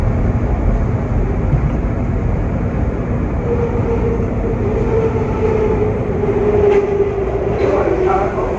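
A Market-Frankford Line subway train in Philadelphia rumbles steadily along the tracks, loud and close, with a rising electric whine and faint metallic squeaks as it runs.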